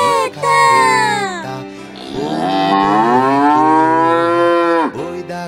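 A cow or ox moos in a children's lullaby song about the black-faced ox, with long, loud, drawn-out calls that rise and fall, then a second sustained moo, set against a musical backing.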